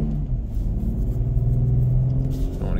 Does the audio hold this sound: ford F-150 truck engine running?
yes